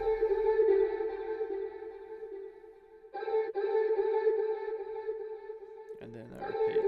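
A pitched vocal sample chop sits alone with a sustained, tonal, sung quality, panned left to right with delay adding stereo spread; it pauses briefly near the midpoint and resumes, then breaks into choppier fragments toward the end.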